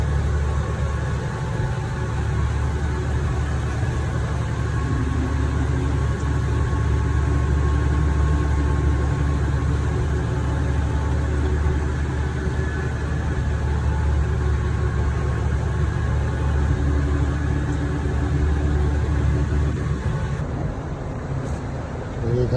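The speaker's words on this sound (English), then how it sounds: "Here comes the transporter." Transporter truck carrying a digger, its diesel engine rumbling steadily and drawing closer on a wet, cold road near Glenorchy, a loud continuous drone with a faint voice under it.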